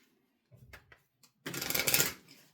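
Tarot cards are handled with a few soft taps and slides, then a loud close riffle shuffle of the deck lasting about a second before fading out.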